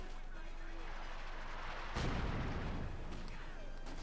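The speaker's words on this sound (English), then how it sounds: "we got a Gammon bomb off" A Gammon bomb detonates in the World War II strategy game Company of Heroes 2, a single muffled blast bursting out of a quiet battle ambience midway through, then fading into faint rumble.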